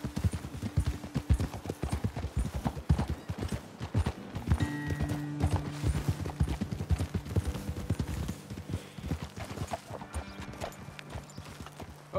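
Steady clip-clop of horse hooves on a hard surface in the video game Red Dead Redemption 2, continuous and fairly close, with a low mechanical hum underneath.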